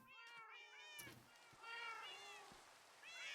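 Several overlapping Minecraft cat meows, from 1.21.3, keep going in wavering, insistent cries over a steady background wash with faint thumps, fairly close throughout.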